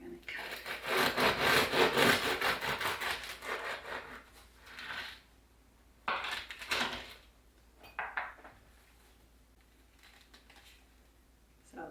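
A knife sawing through a crusty sourdough loaf baked from a 150-year-old starter, rasping strokes in a long loud run, then shorter bursts of cutting with pauses between.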